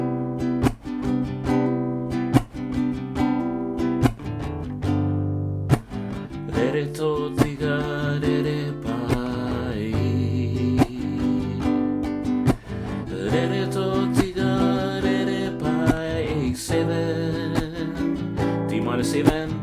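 An acoustic guitar plays the intro of a song, strummed chords ringing out in a steady rhythm with clear plucked attacks, close and solo with no talking.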